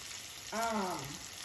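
Thin-sliced Oscar Mayer bacon frying in a pan, giving a steady soft sizzling hiss with a brief tonal squeak in the middle, fairly quiet and close.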